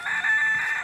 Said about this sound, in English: I'm getting upstaged by the chickens.